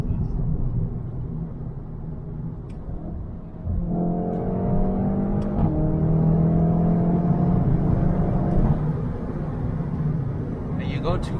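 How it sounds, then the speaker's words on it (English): Engine drone of a VW Golf 7.5 R with an Akrapovic exhaust heard from inside while driving, a steady rumble that rises in pitch as it accelerates, with occasional brief pops and people talking over it. "Those pops are addictive."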